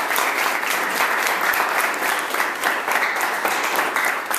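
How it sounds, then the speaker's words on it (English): Sustained audience applause at a Young Senators Program event, a dense, even wash of many hands clapping close by and loud, with no talk over it. "Please, a round of applause"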